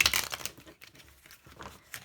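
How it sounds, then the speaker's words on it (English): Papery crinkling and rustling in quick bursts, like cards being shuffled close by, with a short pause before another flurry. "All right, one more shuffle."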